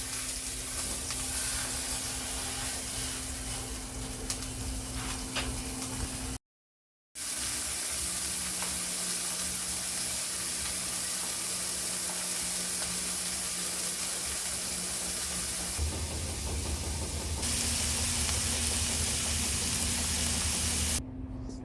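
Sausage fries in a pan for a home-cooked breakfast, giving a continuous hissing sizzle with one short gap of silence and a slight shift in tone partway through.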